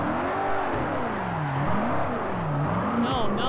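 Nissan GT-R engine in Forza Horizon 4 during an online 2v2 car soccer match, a loud revving, wavering whine rising and falling throughout, with someone talking over it.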